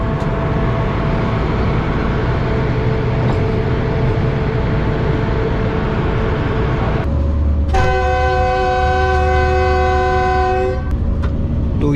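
The Pakistan Express pulls out of Tando Adam Junction in Sindh, with a loud, continuous rumble of rolling wheels and carriages heard from on board, joined midway by a sustained blaring train horn.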